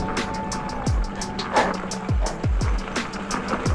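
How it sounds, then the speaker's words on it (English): Squealing mountain bike brakes on a rocky trail during a rainstorm, sharp high squeaks over steady rain-like hiss and rattling wheel noise, with brief downward-sweeping tones from the bike. "Squeaky brakes."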